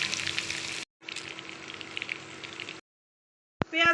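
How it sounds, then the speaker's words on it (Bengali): Chopped onions and green chillies fry in hot soybean oil with sugar and cardamom in a pan, giving a close, crackling sizzle in short bursts separated by abrupt cuts to silence. "পেঁয়াজ ভালো করে ভেজে নিতে হবে।"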